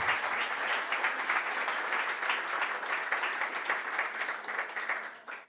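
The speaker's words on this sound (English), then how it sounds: "It's your applause." Sustained audience applause closing a talk at the Neos Conference 2025 studio stage, a continuous dense clapping that stays even and then fades out at the very end.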